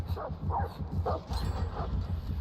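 The Houndmaster's dog in the video game Dead by Daylight barks in a quick series of four or five yips and bow-wows, close and moderately loud.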